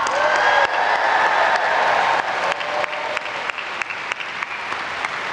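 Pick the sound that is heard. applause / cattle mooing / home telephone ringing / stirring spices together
applause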